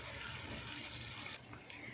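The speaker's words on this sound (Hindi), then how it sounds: "तो अब हम इसमें थोड़ा सा पानी ऐड करेंगे।" Water poured into a pan of aloo baingan masala, with potatoes and eggplant cooked in ghee: a steady close splashing pour that shifts slightly partway through, heard alone.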